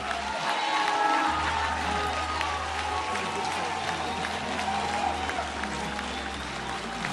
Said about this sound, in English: I think you ought to give them a real good ovation.